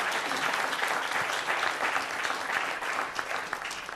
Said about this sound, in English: let's give a panelist a round of applause